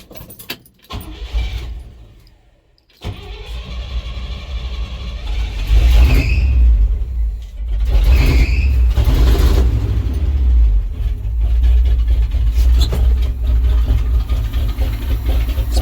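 A 1967 International truck engine cranks and fails once. It then catches and settles into a loud, steady rumbling run with mechanical rattles and a brief squeal, heard up close and with no talking.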